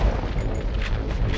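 Shotgun blasts in the Far Cry video game, loud deep booming shots with heavy low rumble and dense overlapping reports, near and forceful.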